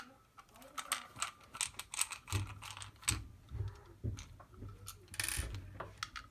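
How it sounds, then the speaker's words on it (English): Phillips screwdriver backing screws out of a quiz paddle, with small close plastic clicks, taps and scraping that come irregularly at low volume and no talk. "take a Phillips head screwdriver, remove the two back screws"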